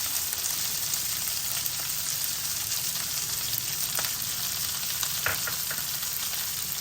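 Green chillies added to hot frying oil, a steady close sizzle and crackle with a few sharper pops, continuous throughout without speech.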